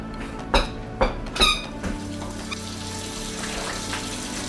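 Water poured into a baking dish holding noodles, chicken and pasta sauce, a steady splashing trickle after a few squeaky knocks at the start, fairly close and alone without talk.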